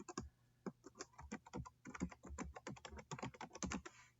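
Fast, uneven clicking of keys on a computer keyboard while someone enters a name and email into a form, close and fairly quiet, with no voice over it.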